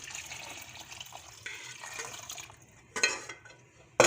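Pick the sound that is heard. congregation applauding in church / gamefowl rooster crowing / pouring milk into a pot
pouring milk into a pot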